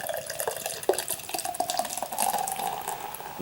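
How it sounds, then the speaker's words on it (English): Yuengling Black and Tan, a porter and premium beer blend, pouring into a glass, a close, bubbling trickle with small splashes and a gurgle that steadies into a continuous stream over a few seconds. "It's pouring off a pretty good head on that thing."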